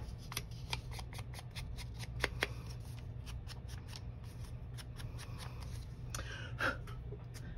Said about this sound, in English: And I will just glue this in and then trim it with the scissors.